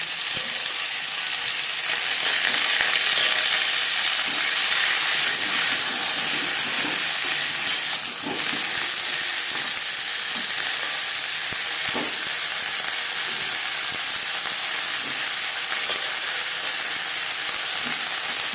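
Cauliflower fries in a hot pan with a steady, loud sizzling hiss that runs without a break, marked by occasional faint stirring knocks and no voices.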